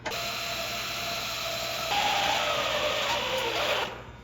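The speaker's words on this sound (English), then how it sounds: "we're going to use a drill here with a bit, and we're going to use it at very slow speeds" An electric drill fitted with a bit runs at very slow speed while rebuilding a John Deere air cart in stainless steel, a steady close whine that rises slightly in pitch midway, then cuts off near the end.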